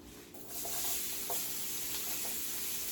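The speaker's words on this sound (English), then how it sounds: "So now I'm going to add my onion. Let my onion cook." Onions fry in a pan holding pork chop drippings and roux, with a steady hiss that swells as they hit the fat, then settles into a soft, even sizzle with faint crackles.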